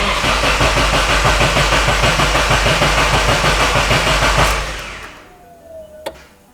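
A reinstalled engine in a Nissan S14 runs loud and close with a fast, rhythmic mechanical chatter, then winds down and cuts off, leaving quiet with a faint whine and a single sharp knock.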